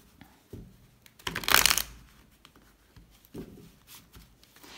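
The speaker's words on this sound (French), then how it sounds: "on va poser les 6 cartes" Tarot cards being laid out on a table, a burst of quick riffling and sliding around the middle with soft taps and card flicks before and after, close and quiet.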